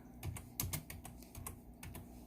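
Quick clicks of one hand typing on a computer keyboard, a close, soft run of irregular key taps.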